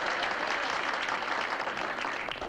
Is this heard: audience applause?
yes